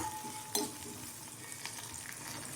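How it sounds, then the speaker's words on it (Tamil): Onion, coconut and tamarind sautéing in a pan for onion chutney, a soft, steady sizzle and crackle with a brief stirring scrape near the start, quiet and close with no talking. "2-3 நிமிஷம் நல்லா வதங்கட்டும்."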